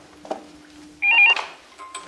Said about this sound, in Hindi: देखो टेलीफोन।